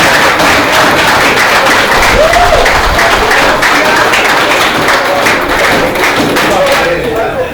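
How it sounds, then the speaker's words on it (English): Applause at a football league awards ceremony, loud crowd clapping with thumping and cheering voices mixed in, continuous and close throughout. "Give them a round of applause for Axe being here"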